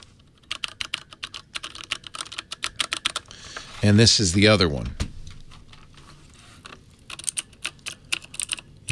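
Fingers type on Code mechanical keyboards fitted with clicky Cherry green switches, a close run of rapid sharp key clacks, pausing while someone speaks briefly, then resuming in quick bursts.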